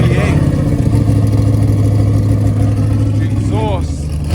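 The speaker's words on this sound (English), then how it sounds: "Oh, have a listen to this V8" V8 engine of a custom American car at a car show with drag-style exhaust cutouts, a loud, continuous low rumble close by, overlaid with crowd chatter and voices.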